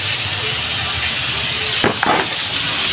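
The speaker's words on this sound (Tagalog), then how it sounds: "Prito na natin guys." Food frying in a pan gives a steady, close sizzle and hiss throughout, with a brief louder burst of spattering near the middle.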